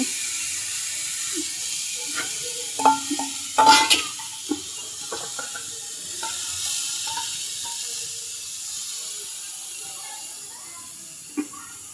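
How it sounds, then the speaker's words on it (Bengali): Jackfruit seeds with potato and shrimp frying in a pan, a faint low sizzle with a few clanks of a utensil against the pot and soft stirring sounds. "এবারে আমি ভাজিগুলো সুন্দর দিয়ে দিচ্ছি কাঁঠালের বিচি।"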